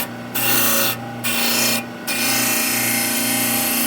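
Abrasive cleaning stick pressed against a running sanding belt, giving a loud, steady broadband rasping scrape in three bursts separated by brief near-silent gaps, with a constant motor hum underneath.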